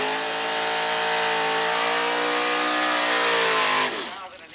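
A 1973 Pontiac Ventura drag car fitted with a 402ci big block Chevy roars off the line at a drag strip, its loud engine note climbing steadily in pitch for about four seconds before fading away.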